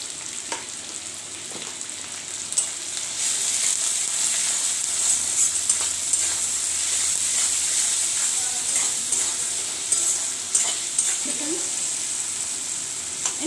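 Chopped tomato with a pinch of salt sizzles steadily in a pan for ghugni, a continuous close frying hiss with light stirring scrapes and occasional spoon knocks.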